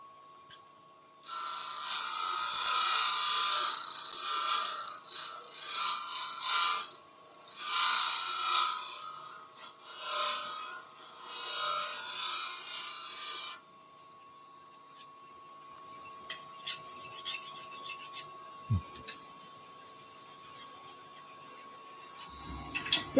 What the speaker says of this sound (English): just give it another sharpen. Not on a mechanical sharpening system, just on the diamond file.